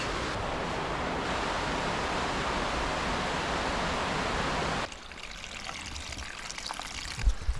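Steady rushing water of a small stream, close and continuous, then abruptly quieter and more trickling toward the end.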